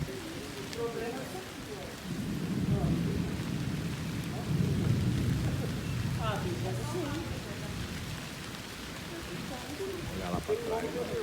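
Rain falls on a city sidewalk in Ribeirão Preto during a strong windstorm with heavy dust, a rushing wash of wind and rain swelling and easing, while people talk intermittently nearby.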